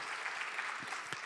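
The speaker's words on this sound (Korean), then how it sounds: "박수 한번 보내주세요" Brief, moderately loud clapping from a congregation during a church sermon, steady hand claps with no talk over them.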